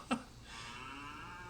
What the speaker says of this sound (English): We got our cows